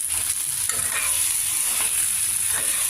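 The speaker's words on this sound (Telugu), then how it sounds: "ఒక్కసారి కొద్దిగా కలిపేసేసుకొని" Stuffed ivy gourd curry stirred in a pan, soft scraping and stirring strokes over a faint steady sizzle, close and quiet with no voices.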